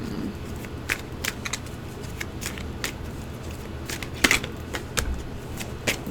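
Tarot cards being shuffled by hand, a run of quick soft riffles and flicks, close and fairly quiet.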